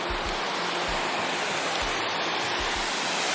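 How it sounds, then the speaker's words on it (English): Steady, full broadband rush of working 1970s waterfalls cascading on the Brutalist grounds of Montreal's Olympic Stadium, loud and continuous with a few low thumps underneath, no voices. "Working waterfalls from the 1970s."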